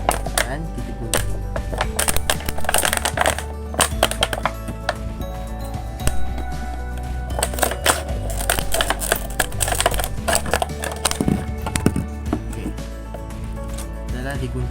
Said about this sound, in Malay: Gunting ni kita gunting botol pada separuh.